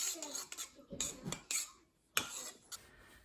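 Utensil clinking and scraping in a small container while mixing a few drops of rosemary oil into flaxseed gel, a handful of short, close, quiet knocks with brief pauses between.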